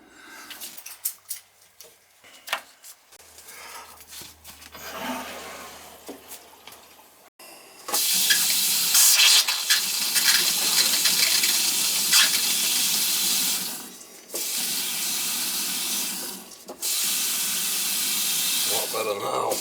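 Water from a repaired kitchen faucet sprayer hose, once wimpy in flow, bursts on after a stretch of quiet handling and clatter, then gushes in a loud, steady hiss that briefly drops and resumes twice, with a voice heard early on.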